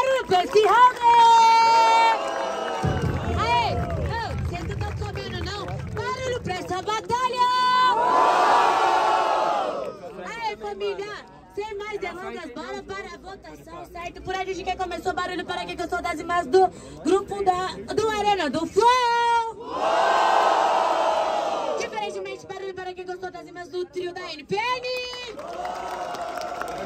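Loud crowd at a rap battle event in the Zona Leste trios challenge, cheering and shouting in repeated swells throughout, with an MC's amplified voice calling out over the noise.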